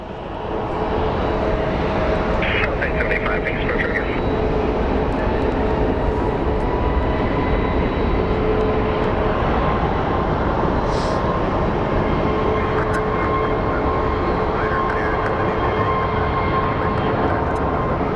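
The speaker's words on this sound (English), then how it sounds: "So now we have a Delta A319 that is lining up for departure for Salt Lake City." A Delta Airbus A319 airliner rumbles steadily at Phoenix Sky Harbor airport, a loud and continuous jet engine roar that holds for the whole stretch, with faint outdoor clatter mixed in.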